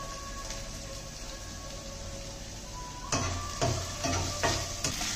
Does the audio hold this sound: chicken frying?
yes